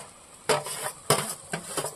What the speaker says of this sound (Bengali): যে ডালটা আমি সিদ্ধ করে রেখেছিলাম হাফ সিদ্ধ, সেই ডালটা আমি এখন দিয়ে দেবো এই মশলাটার ভিতরে